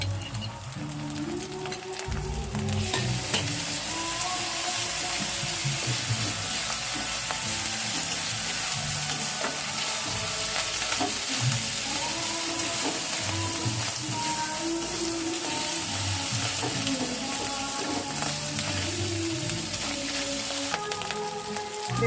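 Chicken fries in a pan with ginger-garlic paste, giving off a loud, steady sizzle that runs unbroken for the whole stretch.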